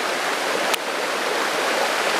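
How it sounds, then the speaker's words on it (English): A cascade in a mountain brook rushes steadily in a dense, loud, continuous roar of falling water, heard from close by with no voices. "Right there's the cascade I was talking about."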